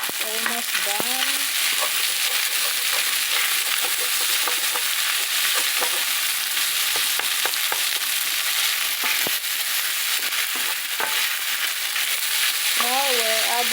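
Lobster fried rice is stir-fried in a pan with a loud, constant sizzle and repeated clacks and scrapes of the spatula, while a voice speaks briefly in a few short bursts.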